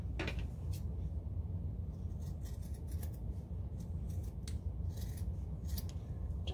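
Fabric for a basic tote bag is cut with scissors just above a sewn line: several crisp, close snips sound over a constant low rumble, with no one speaking.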